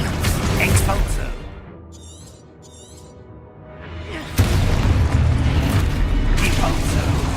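An Expulso blasting spell in the video game Hogwarts Legacy goes off as a sudden loud blast followed by sustained crackling rumble, preceded by earlier noisy combat sounds and a quieter lull with faint chirps.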